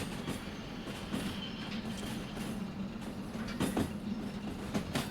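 Train cars being shunted in the Derail Valley railway game: a steady rumbling rail drone with intermittent clanks and wheel knocks, fairly loud and continuous throughout, with no talking.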